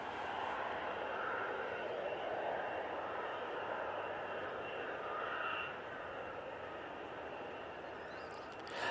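An Embraer E195 airliner arriving from Zurich at Manchester Airport gives a steady, broad engine roar that holds fairly level throughout, mid-distance, easing slightly toward the end.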